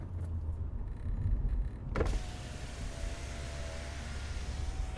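Motorized privacy divider in the back of a car closing, a steady electric motor whine that runs on under a constant cabin hum, loud and close with no talking.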